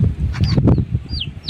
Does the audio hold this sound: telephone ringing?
no